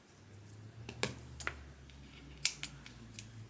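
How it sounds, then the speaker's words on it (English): Fabric being cut with sticky scissors while making a sewn project bag, several crisp, close snips spaced irregularly over a quiet room hum. "I'm gonna use my sticky scissors"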